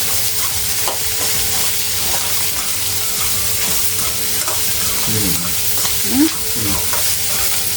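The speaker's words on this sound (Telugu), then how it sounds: "తర్వాత ఎర్రగడ్డలు ఒక 6 ఎర్రగడ్డలు కట్ చేసి పెట్టుకున్న ముక్కలు దాంట్లో వేసి బాగా వేగనివ్వాలి." Chopped onions, six of them, fry in a pan in a home kitchen while cooking an egg dish, with a steady close sizzle and occasional stirring scrapes throughout.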